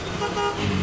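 Tuk-tuk horn honking in busy Indian traffic, a steady toot over dense road noise and engine rumble, heard close and loud for under a second.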